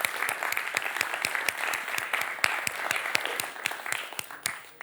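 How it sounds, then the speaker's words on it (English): A conference audience claps after a talk, a moderate spread of distinct hand claps that rises and then thins out toward the end. "Let's applaud."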